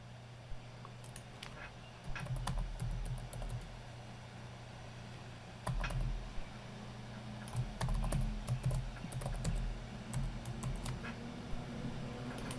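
Login credentials typed on a computer keyboard, a quiet run of irregular clicking keystrokes in short bursts over a steady low hum.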